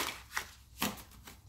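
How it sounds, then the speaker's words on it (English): A deck of tarot cards being shuffled in quiet bursts, with three or four brief riffling swishes spread across a short span, close and soft. "One more shuffle here."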